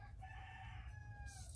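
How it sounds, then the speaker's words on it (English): A single rooster crow rings out faintly in the distance over a low, steady background rumble, rising and holding for about a second before fading. "The roosters. This is when they go crazy."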